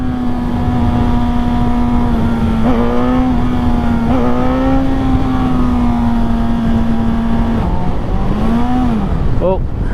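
A 2024 Suzuki GSX-S1000 motorcycle engine holds a loud, steady drone with a couple of brief rev swells during wheelie attempts, easing off near the end, while a rider talks over it.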